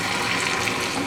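Water running steadily from a kitchen faucet in an apartment, a brief continuous hiss and splash heard close up with no talking.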